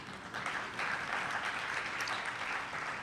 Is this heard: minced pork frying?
no